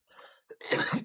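A single cough-like burst, close and moderately loud, follows a short throat-clearing sound during an indoor conversation, with a brief pause in between.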